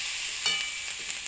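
Drumstick flowers being stir-fried in a pan, giving a steady close sizzle with soft stirring scrapes and brief bursts of frying crackle.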